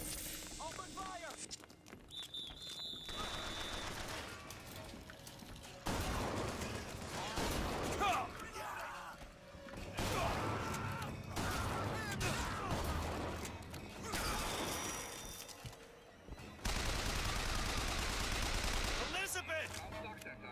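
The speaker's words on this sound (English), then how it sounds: "Open fire!" Gunfire in the video game BioShock Infinite: bursts of shots and mechanical clatter alternating with quieter stretches, a fairly faint mix with voices shouting in places.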